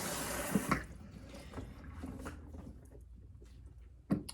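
Water from a salon sink nozzle streams steadily over hair at the nape of the neck in a soft, continuous wash, with a few light knocks and splashes.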